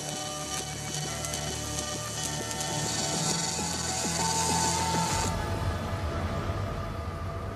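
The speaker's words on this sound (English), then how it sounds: "The robot works out the most efficient route and runs the program." Industrial welding robot running its program in a Tesla factory, a busy mechanical whir with rapid ratcheting clicks and buzzing servo tones that shift abruptly partway through, up close and without talk.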